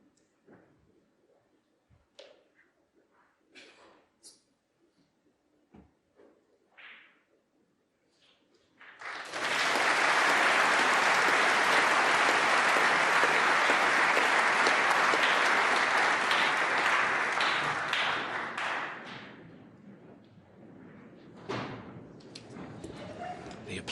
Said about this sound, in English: The applause is for Zhengyi